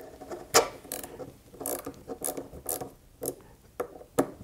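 Small metal fasteners being loosened on the gas key of an AR-15 bolt carrier group, giving a string of short, sharp clicking and ratcheting scrapes spaced irregularly, close and fairly quiet, with no talk.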